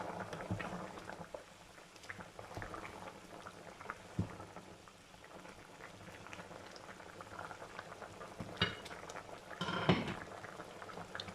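Thai green curry with chicken simmering in a covered pot, a soft continuous bubbling with occasional louder pops and gurgles, close and fairly quiet, with no talking.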